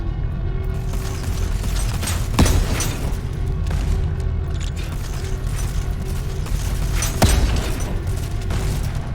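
Military turret on a drill ship in Volcanoids firing two heavy booming shots a few seconds apart over constant mechanical rumble and clanking machinery.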